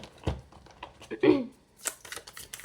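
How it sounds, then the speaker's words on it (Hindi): Tarot cards are shuffled by hand, close up, with irregular soft riffling and slapping sounds and a few scattered clicks. "सबसे पहले हम कार्ड शफल कर लेते हैं।"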